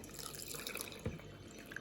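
Water ladled into a bowl of grated potatoes makes a single short, soft splash and pour midway through an otherwise quiet kitchen moment, with faint dripping around it.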